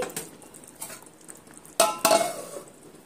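A metal pot lid clanks as it is lifted off a pan of Bengali rui fish curry, two sharp clattering hits after softer kitchen rattles, close and with no talking.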